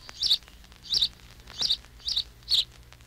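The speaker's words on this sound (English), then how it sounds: "house sparrow" House sparrow in a city gives five sharp, bright chirps at an even, quick pace, close and clear against a quiet low hum.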